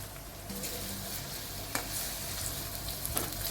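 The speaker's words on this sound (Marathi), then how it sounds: "मग त्यात हिरवी मिरची आणि लगेचच कांदा घालून घेऊया." Green chilli and onion sizzle in hot oil with cumin in a kadhai, a steady close crackle with a few sharper stirring clinks, no talk.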